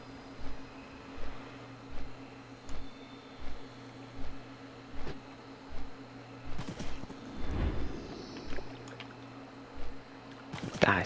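A vehicle engine in World of Warcraft (Wrath of the Lich King) runs with a low, steady, rhythmic chugging pulse at about one beat per second under a faint background hum, moderate in level, with no speech.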